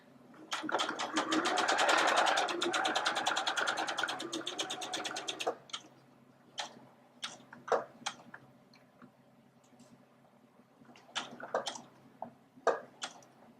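Sewing machine with a twin needle stitching down to the point of a V-neckline, a rapid close run of about five seconds, then stopping, followed by scattered clicks and taps of fabric handling.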